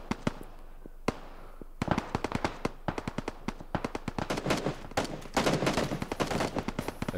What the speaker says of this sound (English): The gunfire's getting close.